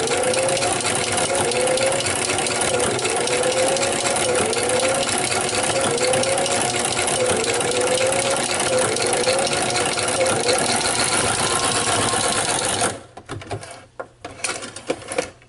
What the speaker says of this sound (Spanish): Vamos a poner la tela y a bajar la aguja y empezamos a coser en el plisado.